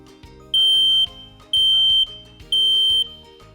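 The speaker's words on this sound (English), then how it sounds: "You should hear the audible alarm after pressing the button." A smoke alarm sounding after its test button is pressed, loud piercing beeps in three long pulses of about half a second each, evenly spaced, with a faint background hum and no talking.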